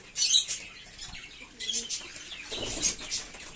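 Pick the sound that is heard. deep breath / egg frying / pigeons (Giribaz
pigeons (Giribaz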